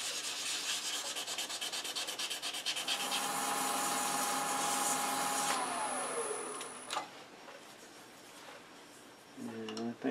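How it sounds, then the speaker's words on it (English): A wooden box with brass inlay is hand sanded along its edges with 320 and then 400 grit sandpaper, a fast, close, rhythmic rubbing that stops partway through and leaves quieter handling noises. "Just hand sand that a little bit around the edges."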